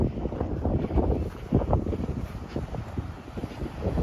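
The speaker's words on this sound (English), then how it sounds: "it's getting windy" Gusty wind buffets the microphone on a coastal hiking trail near Bean Hollow State Beach, a close, rumbling rush that swells and eases in uneven waves.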